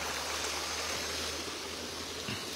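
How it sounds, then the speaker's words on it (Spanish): Water flowing in a stream at a rural spot among walnut trees and coffee plants, a continuous even rush of water with no voices, steady from start to end. "Y el agua fluir."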